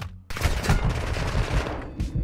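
Rapid gunfire bursts from a video game, a dense crackling volley after a brief quiet start, continuing loudly for about two seconds with repeated sharp shots.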